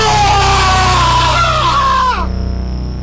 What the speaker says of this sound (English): Was that a scream?